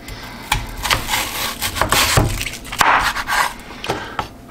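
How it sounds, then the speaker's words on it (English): A knife slices food on a wooden cutting board in close, uneven chopping and scraping strokes, some sharp and some dull, with no talk. "And now let's just start slicing it."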